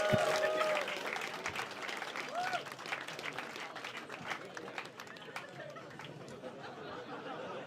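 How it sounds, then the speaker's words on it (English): Comedy club audience applauding and cheering as a comedian is welcomed to the stage, a dense, steady patter of clapping with scattered whoops and chatter, fading slightly over several seconds. "Please give a huge round of applause, clap and cheer"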